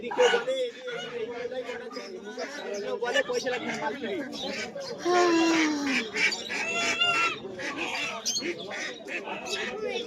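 Young goslings about six weeks old squawk and honk among other fowl at a busy village market, with a steady crowd of voices talking over them.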